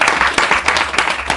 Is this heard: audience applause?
yes